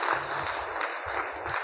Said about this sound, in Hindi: एक ज़बरदस्त ताली होना चाहिए।